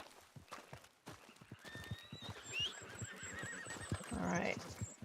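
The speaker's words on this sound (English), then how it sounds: "Okay, take off, horsey. You're free, you're free." Video game horse whinnying in a rising, wavering call, with a string of hoof clip-clops running beneath it, fairly quiet overall.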